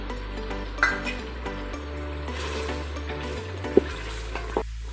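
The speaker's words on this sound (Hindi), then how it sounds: "कलेजी की भुनाई हो रही है।" Beef liver pieces (kaleji) frying in oil in a pan, a steady low sizzle with occasional sharp clinks of a spoon against the metal pan as the meat is stirred, no talking.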